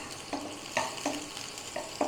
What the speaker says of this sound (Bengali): রসুনটা একটু ভেজে নেবো।